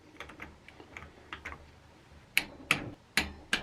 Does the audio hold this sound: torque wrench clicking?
yes